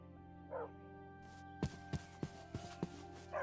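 A dog in Minecraft gives a short yip, then a string of quick, sharp barks at fairly even intervals, clear over the quiet game background with no voices.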